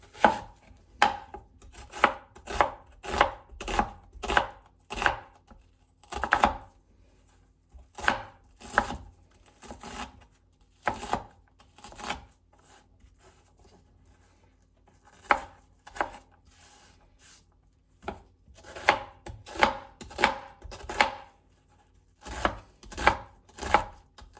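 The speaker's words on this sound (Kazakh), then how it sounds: "Келесі кезекте пиязымызды турап аламыз." Onions being chopped with a knife on a board for chicken soup: long runs of quick, sharp, close chops in bursts, broken by short pauses, with no voices.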